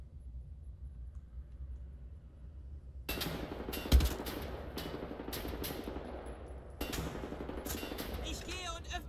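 Automatic gunfire in the shooter game Wolfenstein: The New Order, starting abruptly after a quiet stretch and continuing as loud, rapid bursts with a heavy thump near the start and a second surge later.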